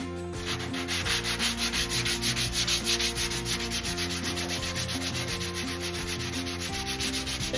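Sandpaper of 180 grit is rubbed by hand over a small dent in a car's body panel. The strokes are steady and rhythmic, close and clear, with no voices.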